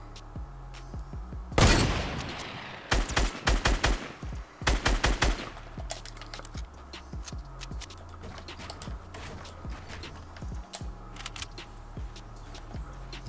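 Fortnite gunfire bursts out in loud rapid volleys near the start, a heavy blast followed by two tight clusters of shots, then sparse faint pops over quiet background game ambience.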